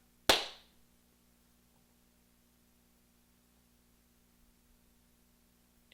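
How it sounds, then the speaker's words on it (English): A single sharp hand clap for an audio sync test, loud and close near the start, then quiet room hum, with a faint second hit at the very end. "and I clap"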